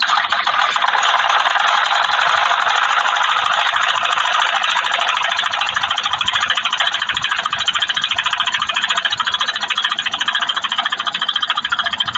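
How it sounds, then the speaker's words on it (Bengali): Sewing machine stitching two folded layers of panjabi fabric, a steady close whirring drone that runs unbroken throughout with no talk. "2 ভাঁজ একসাথে দিয়ে সেলাই করবো চিকন করে।"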